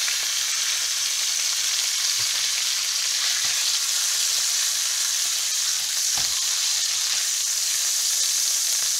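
Meat pieces browning in a pan give off a loud, steady hiss of sizzling fat, with a few faint low knocks of cookware underneath and nobody speaking.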